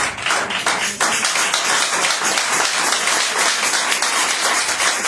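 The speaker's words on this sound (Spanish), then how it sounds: "Puesto de pie, iglesia, denle un fuerte aplauso." Loud, dense applause from a church congregation standing during a service, a steady wash of many hands clapping that stays full and close for the whole stretch.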